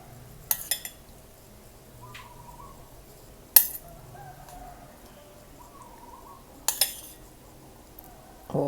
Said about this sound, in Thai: เราก็จะมาจัดใส่จานเลยนะคะ